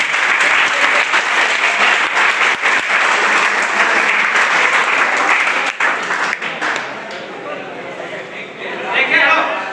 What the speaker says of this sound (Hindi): इस प्रोग्राम के लिए एक बार ताली तो बनती है।